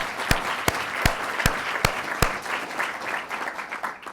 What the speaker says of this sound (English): give a round of applause to Wendy Abrams